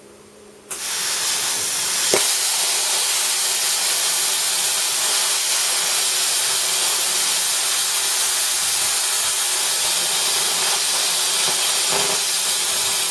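A sharp start, then a continuous loud hiss and roar from a plasma cutter with old, worn tip and electrode, slipping rather than cutting cleanly, steady throughout with a couple of faint clicks.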